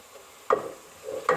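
Cumin seeds being stirred into mash dal in a pan, two short scraping strokes with soft sizzling between them, close and fairly quiet with no talking.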